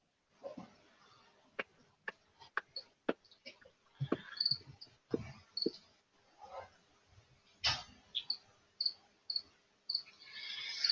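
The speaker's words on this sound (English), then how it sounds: "Someone has a cricket loose." A cricket loose indoors gives short, high chirps at fairly regular intervals, with louder thumps and clicks from the room around it during a lads' night in.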